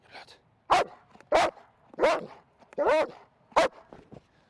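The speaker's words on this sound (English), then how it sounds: "When you do out and the dog starts barking, that's called the active guarding." A dog barks in sharp single woofs during the active-guard phase of IGP bitework training, five loud, close barks spaced roughly evenly with soft panting and whines between them.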